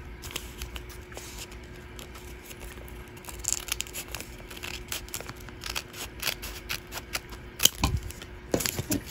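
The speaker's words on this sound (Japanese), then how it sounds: "そうしましたらここの線でハサミで切ります。" Scissors cut through folded origami paper, making a run of soft crisp snips and paper rustles that grow busier and sharper toward the end, with no talking.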